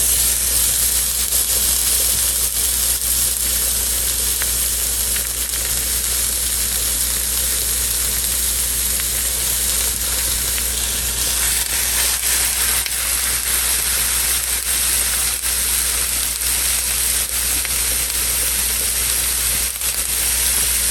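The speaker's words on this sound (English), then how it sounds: "a couple tablespoons of butter. Get the onions right in there." Onions sautéing in butter in a pan give a steady, loud sizzle and hiss, unbroken for the whole stretch with faint stirring clicks and no talking.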